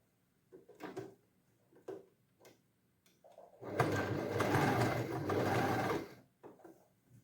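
A sewing machine stitches a silk skirt and blouse, with soft handling knocks and clicks before a steady, close whirring run of about two seconds, followed by more light clatter.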